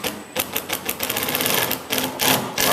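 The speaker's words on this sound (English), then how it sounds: "driving all of the screws home now" A power driver sets screws into the bottom of a 1938 Chris Craft runabout, making a rapid, rattling, near string of loud clattering pulses that runs unbroken throughout.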